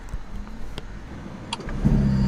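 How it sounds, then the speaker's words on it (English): A Ferrari SF90 started from its digital display: a few faint clicks and electronic chirps, then the engine catches with a low rumbling idle building near the end. "And the engine goes on"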